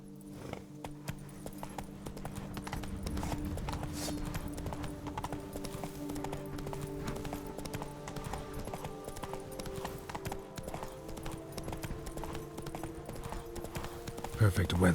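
Roach, the horse in Witcher 3, trots with a steady, even clip-clop of hooves over a constant ambient bed and low game music, with a brief whinny-like sound near the end.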